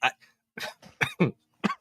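A few short, harsh coughs in quick succession, close and fairly loud, with brief pauses between bursts.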